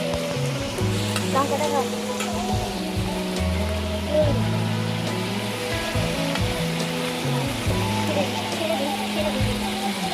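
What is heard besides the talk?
chicken sautéing in a pan with spices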